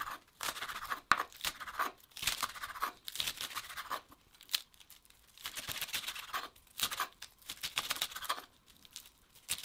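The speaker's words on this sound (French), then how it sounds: "Coupez la salade comme ceci." A knife cuts through lettuce leaves while crudités are prepared for chicken sandwiches, giving close, crisp tearing and crunching strokes in irregular bursts with short pauses between them, and no voices.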